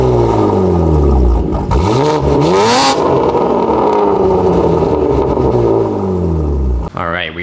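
BMW G80 M3 with an HFD Valvetronic midpipe, exhaust valves open, revving hard: loud, close engine blips rising and falling in pitch across the clip, ending with a sharp cutoff and a brief mechanical whir.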